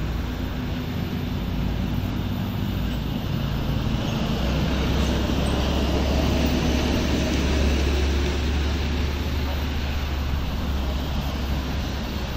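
A Sugeng Rahayu intercity bus passes along a road toward Surabaya, giving a steady, loud rumbling roar of engine and tyres that holds throughout without a clear rise or fade, with no speech.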